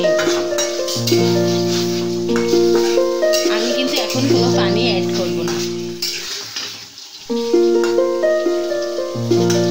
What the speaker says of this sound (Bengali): মাছটা আমি একটু ভালোভাবে কষিয়ে নিই।